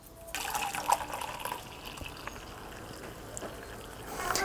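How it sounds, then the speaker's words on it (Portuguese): Boiled water, 500 ml, being poured into a container while preparing agar-agar medium for orchid propagation, a steady, fairly quiet liquid stream running on with no talk. "Depois disso, nós vamos adicionar 500 ml de água fervida."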